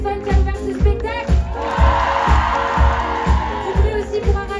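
A concert crowd at a live show in Paris claps and cheers steadily, with rhythmic beats of music thumping underneath the sustained applause.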